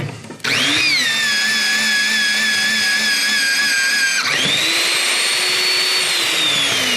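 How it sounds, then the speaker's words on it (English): A Hitachi VB16Y electric rebar bender bends number 5 (5/8-inch) rebar through 180 degrees, starting with a loud steady motor whine that drops in pitch under load, then shifts to a higher pitch as the bend finishes, close and continuous. "We'll do a 180-degree bend with the 5/8."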